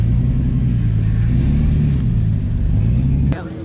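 A Mercedes SLK32 AMG engine at a drag strip holds a loud, steady low rumble for several seconds before dropping off abruptly near the end.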